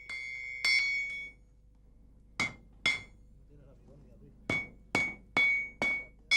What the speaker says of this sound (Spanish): A base de golpes con el martillo sobre el hierro rusiente